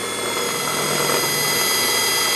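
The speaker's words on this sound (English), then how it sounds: "you want to drill slowly and at a little bit of an angle, or else the rivets will spin instead of cut" A power drill slowly drilling out factory rivets on a GM power door lock actuator, a steady close whirring motor with a dense grinding buzz, continuous and loud with no talking.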